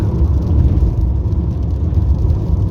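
A car on the road gives a low, continuous rumble from inside the cabin, with a steady engine hum and road noise and no talking.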